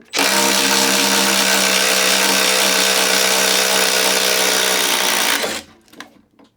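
Milwaukee M12 compact impact driver running continuously through wood for about five seconds, a loud, steady whirring drone up close that cuts off abruptly, leaving faint handling noises.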